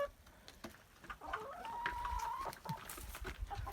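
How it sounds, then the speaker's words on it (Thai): Laying hens cluck and murmur close by, with a rising, drawn-out cackle in the middle and scattered short clucks around it. "ไก่ไข่ตอนนี้เขาก็เลี้ยงอยู่ห้าตัวนะครับ"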